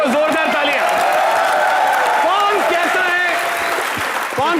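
Studio audience applause and cheering on a televised comedy show, loud and sustained, mixed with voices and laughter throughout.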